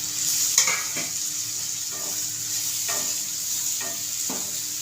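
Kantoli and home spices are stir-fried in oil, making a continuous gentle sizzle. It is broken by several rhythmic scraping strokes of a spatula against the pan, close up with no talking.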